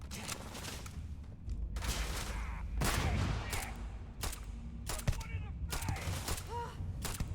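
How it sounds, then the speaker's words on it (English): A grenade thrown and exploding in Starfield amid a firefight: bursts of gunfire and sharp blasts cut in repeatedly over a steady low rumble, with a louder explosive swell around the middle and more cracking shots afterward. "Throwing a grenade!"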